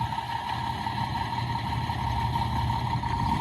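A 2006 International 8600 SBA 6x4 conventional road tractor with a Cummins ISM 410 engine idles steadily and close, a continuous low diesel rumble with a constant mid hum and no talk.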